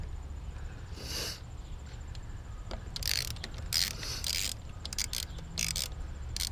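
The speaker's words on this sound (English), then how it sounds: "there is a T30 in here that you just have to undo" A ratchet clicks while a T30 bolt is undone on the charge pipe of a 2006 VW Jetta TDI, with faint, scattered ratcheting bursts and light metallic handling over a low background hum.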